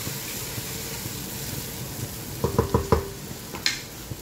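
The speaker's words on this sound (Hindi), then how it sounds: "आप प्याज भुनना है कि थोड़ा ब्राउन शेड हो जाए" Onions fry with spices in a pan for chicken biryani, giving a soft steady sizzle, then several close scraping stirs and a brief clatter of utensil on the pan.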